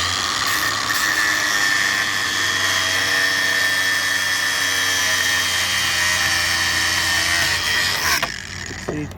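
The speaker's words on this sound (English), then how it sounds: "I normally cut it off. This little tab off with a grinder." A grinder cuts off a metal tab on a golf cart lithium battery, a loud steady whine holding for about eight seconds before it stops abruptly.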